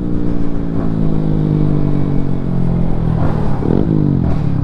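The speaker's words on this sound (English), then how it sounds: "his bike does sound so nice" Loud Yamaha MT-125 motorcycle engine rumbling steadily up close, with the pitch shifting as it revs and passes.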